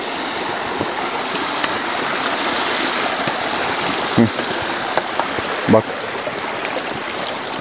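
A mountain stream flows through a forest, a steady, close rushing of water throughout, with a brief word spoken over it.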